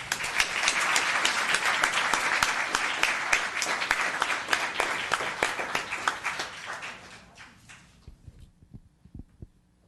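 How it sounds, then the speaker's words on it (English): Round of applause for town council members at a Los Gatos council meeting, steady dense clapping from a seated audience that thins into a few scattered claps before fading out. "Let's give them a round of applause."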